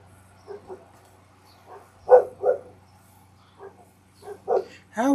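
Several dogs bark indoors at a moderate distance, giving short scattered yips and woofs in loose bursts with quiet gaps between them and a low steady hum beneath.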